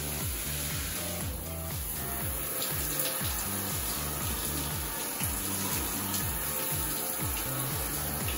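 Water splashes and streams steadily onto a bathroom mirror, a continuous close rushing pour with no talk over it.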